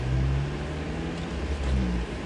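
Car driving along a snowy road, a steady low engine drone and road rumble heard from inside, continuous and fairly loud with no talking.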